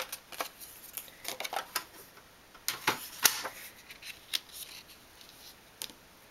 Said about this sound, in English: And I take my cutter and I'll cut where I marked.